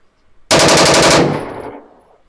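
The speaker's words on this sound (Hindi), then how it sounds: "अब ये मुख्तलिफ जगहों पे सब एरियल फायरिंग है और ये वेपन टेस्ट हो रहा है" A 30 bore gun fires aerially during weapon testing in Pakistan's Darra Adam Khel gun market: a loud, rapid burst of shots lasting under a second, followed by a long fading echo.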